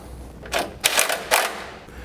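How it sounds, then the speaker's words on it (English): An 18 mm socket wrench tightens bolts during plate assembly, giving three short bursts of ratcheting clicks spaced about half a second apart, close and fairly loud. "use the 18 mil socket to secure them."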